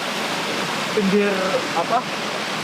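River water flows near the Grojogan Sewu waterfall as a steady broadband rushing wash, fairly loud and continuous, with a brief voice heard over it midway.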